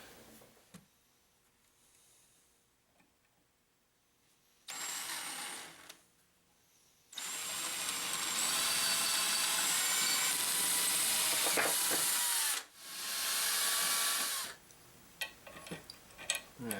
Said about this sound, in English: And now we got to drill that one out.